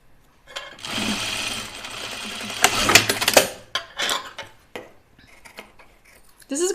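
A domestic sewing machine stitches an underarm seam on a garment being altered. It gives a rapid mechanical whir in two bursts, the second ending in clattering stops. Close-up, with no talking.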